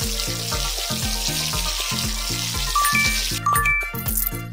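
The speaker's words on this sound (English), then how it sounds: "Shower time." Shower water spraying on Zebra Zach at a salon in the Jungle Animal Hair Salon 2 game, a steady hiss with light jingling chimes over bouncy background music.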